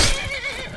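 A video-game horse at a stable lets out one loud, close whinny that wavers briefly and fades, with no talking over it.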